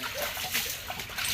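Spilled drinking water from overturned pots on a house floor being cleared, giving a faint, continuous splashing and sloshing up close.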